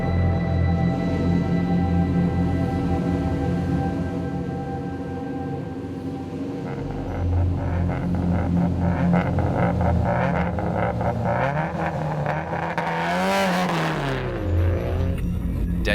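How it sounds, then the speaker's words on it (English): Rally cars race flat-out through dark Arctic night stages, engines droning and rising in pitch, then one car roars loudly past near the end. "Pace notes are critical in ensuring the cars traverse the darkness at flat-out pace."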